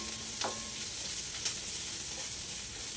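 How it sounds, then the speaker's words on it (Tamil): Onion sautéing for an okra fry hisses with a steady, broadband sizzle in a pan, marked by a couple of brief scraping stirs, with no talk over it. "இதுக்கு வந்து வெங்காயம் நல்லா வதங்கிடணும் லைட்டாக அந்த ப்ரௌனிஷ் ஆகணும்"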